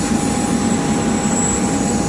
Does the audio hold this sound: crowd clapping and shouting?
no